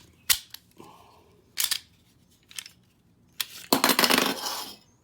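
A Shield pistol being worked by hand: several sharp metallic clicks and clacks as the magazine release and slide lock operate, close and separate, with a longer rattling snap near the end.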